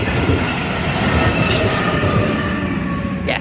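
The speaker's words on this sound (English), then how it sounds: "Yes, I run with the trains." A train passes close by, a loud continuous rumble of wheels on rails with steady rolling noise throughout, no voices.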